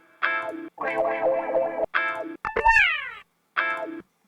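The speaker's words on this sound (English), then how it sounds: "it is yet another funky guitar sound" Funky electric guitar run through effects units, heard as several chorused, distorted phrases separated by short gaps, with a pitch-bending boing-like swoop in the middle, loud and close.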